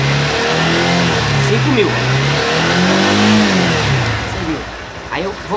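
Honda Titan 160 motorcycle engine revving hard and holding high revs, a loud steady drone with rising and falling pitch and a mechanical noise, while someone talks over it close by.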